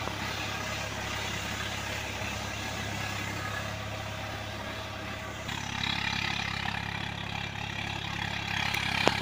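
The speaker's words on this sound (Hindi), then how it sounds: "इसे आवाज़ किसी और ट्रैक्टर के इंजन का नहीं है, इतना आवाज़ इसका प्यारा लगता है।" A Swaraj 855 FE tractor engine runs steadily with a deep, continuous rumble and diesel chug, close and fairly loud, rising slightly in the second half.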